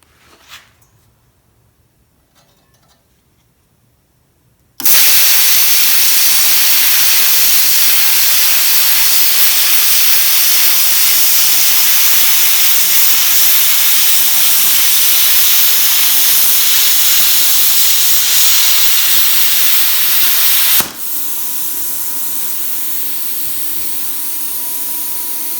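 A Bestarc BTC500XP plasma cutter, fed by a small air compressor, slices thin sheet metal. After a quiet start, a loud, steady, harsh hiss bursts on abruptly and holds for about sixteen seconds, then drops to a softer, continuing air hiss.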